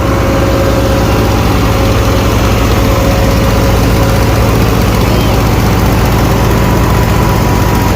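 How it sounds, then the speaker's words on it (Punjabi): A tractor brought in for wheat threshing runs at a steady, loud drone, its engine chugging continuously and close by without pause. "ਇਹ ਸਪੈਸ਼ਲ ਟਰੈਕਟਰ ਹੈ ਜੀ ਜਿਹੜਾ ਇਸ ਕਣਕ ਦੀ ਗਵਾਈ ਵਾਸਤੇ ਲਾਇਆ ਗਿਆ।"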